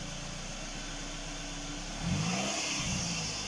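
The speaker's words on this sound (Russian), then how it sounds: "Холодный мотор." A cold Toyota Camry 40 engine idles steadily, then revs up with a rising, throaty roar and holds at higher speed.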